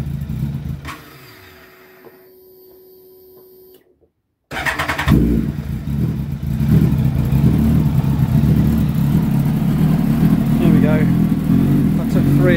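A low-mileage Kawasaki ZX12R sport bike is cold-started after sitting for weeks: the starter cranks, then the engine catches with a loud burst and settles into a steady, throbbing idle close by, with a person talking.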